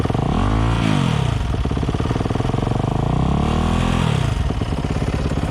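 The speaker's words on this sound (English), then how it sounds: "I want y'all to hear the engine and hear how the bike reacts" A dirt bike engine revs up close, throttle blipped twice in rising and falling surges over a rough, loud idle.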